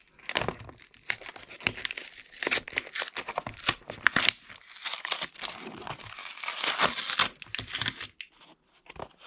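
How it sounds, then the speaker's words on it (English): Cardboard blister packaging being ripped open to unbox a Superthings Kazoom Power Warriors toy, close irregular bursts of tearing and crinkling plastic and card. "I can't help but rip it."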